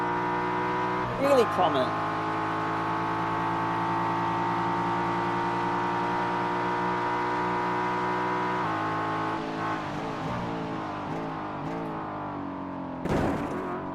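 A Ford Mustang GT4 race car powering out of a corner in a motorsport race, a steady loud engine drone with layered harmonics that shifts pitch midway, heard under race commentary.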